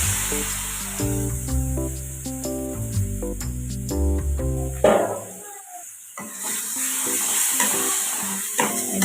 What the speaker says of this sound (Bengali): মশলাটাকে একটু কষিয়ে নিই